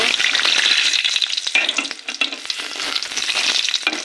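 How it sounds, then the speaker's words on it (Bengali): Pumpkin bori, lentil dumplings, fry in a hot pan with a close, bright sizzle and the scrape and clatter of stirring, busy and continuous with no talking. "এই যে কুমড়ো বড়ি বলেন, কুমড়ো বড়ি বলেন, যে যেটা বলে, এটা কিন্তু আমি সুন্দর করে ভেজে নেব"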